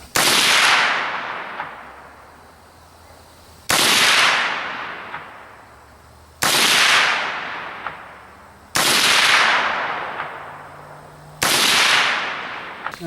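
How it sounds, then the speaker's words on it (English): Five loud rifle shots from .300 AAC Blackout 150-grain handloads, each a sharp crack with a long decaying tail, fired singly at spaced intervals of roughly two to three seconds on an outdoor range. "5 shots, lower left."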